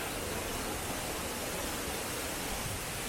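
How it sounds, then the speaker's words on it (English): Steady broadband rush of a waterfall at Euro Park in Phnom Penh, a constant even wash of falling water heard up close, alone and unbroken throughout. "And there's a waterfall over here."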